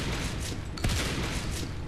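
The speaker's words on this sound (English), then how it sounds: "Shotguns are slower, and have a wider spread," A shotgun fires in the sci-fi shooter Natural Selection 2, a single heavy blast near the middle set against continuous loud background game noise.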